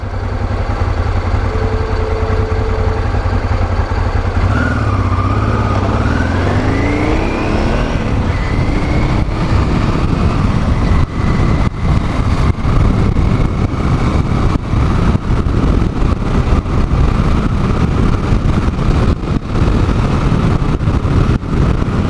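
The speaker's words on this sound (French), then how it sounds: "Bah, carrément pas le même son du pot d'échappement ici." A Honda Africa Twin Adventure Sports motorcycle idles loudly with a low rumble, then revs up and rises in pitch, continuing as a rough, throaty exhaust roar close by.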